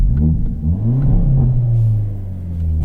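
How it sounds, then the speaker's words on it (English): A 2022 Hyundai Elantra N engine turns over and roars to life, then revs loudly with a deep, throaty rumble rising and falling, close by. "let's fire it up. Straight into N mode"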